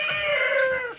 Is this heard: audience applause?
no